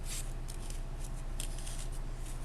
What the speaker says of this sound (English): Stick that scissor right inside that snip and go ahead on and cut.